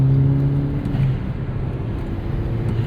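A turbocharged 2009 Chevrolet Cobalt SS engine roars steadily through a no-lift shift during autocross, a loud continuous drone with a brief tonal dip in pitch near the start, then sustained, hard-pulling engine noise with no talk.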